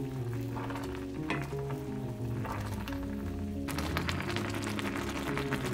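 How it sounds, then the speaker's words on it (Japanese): Fried tofu pouches stuffed with egg simmer in a sweet sauce in a pan over medium heat, giving a steady bubbling sizzle with occasional light taps as sauce is spooned over, continuous and close throughout. "沸騰したらこのような形でタレをかけながら5分間煮ていきます。"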